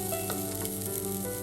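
Fresh grated coconut, about a quarter cup, tipped into a pan where curry leaves are roasting for chammanthi podi, giving a steady close sizzle and faint stirring scrape with no talk.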